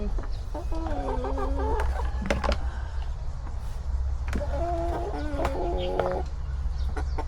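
Chickens cluck and squawk in a few short bursts over a steady low background hum, moderately distant, with faint sounds in between.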